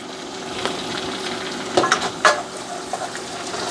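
Garlic and Italian herbs sizzle gently in a pan on low heat, a steady soft frying hiss with a few brief stirring scrapes partway through.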